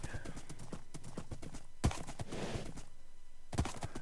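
A fast horse gallops in the video game Istari, its hooves clattering in a quick, steady clip-clop rhythm up close, with two sharper thuds standing out and no talk.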